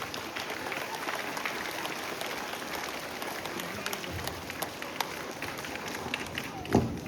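An audience at a school welcome-back event applauds the teachers, a steady wash of many hands clapping with voices mixed in and a few louder claps standing out toward the end.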